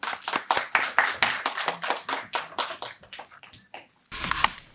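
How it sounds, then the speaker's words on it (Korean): Sparse, distinct hand claps from a small audience at a disability family speech contest welcome the next presenter, individual claps clearly separated and gradually thinning before a louder burst at the end. "박수로 모시겠습니다"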